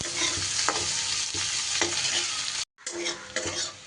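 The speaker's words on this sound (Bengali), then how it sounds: "এইবার পেঁয়াজটা যতক্ষণ না পর্যন্ত একটু ভাজা ভাজা হচ্ছে ততক্ষণ পেঁয়াজটা ভেজে নিতে হবে।" Onions fry in a pan with a constant, close sizzle, punctuated by a few scraping stirs and a brief cut near the end before the crackling resumes.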